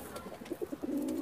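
A pigeon coos softly in a short run of low, rolling calls, close by in a pigeon loft, ending in a sustained throaty note.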